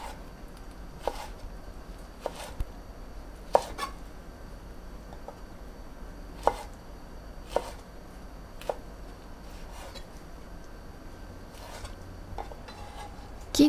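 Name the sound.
chopping okra with a kitchen knife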